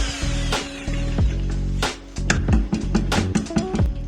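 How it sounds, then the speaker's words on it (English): A power drill with a mixing paddle churns Sheetrock 45 joint compound in a bucket, running in steady whirring stretches broken by short pauses and rough, uneven changes in speed, close and loud. "going to start mixing up some sheetrock 45"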